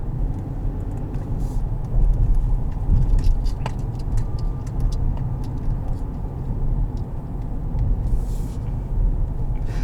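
A 2021 GMC Canyon Elevation engine pulls under acceleration while driving, a steady low rumble filling the cabin with faint clicks and rattles over it.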